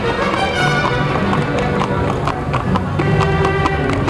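Hooves of a pair of raised horses pulling a carriage at an outdoor pioneer day event clip-clop in a steady rhythm, close and moderately loud, amid crowd murmur and background music.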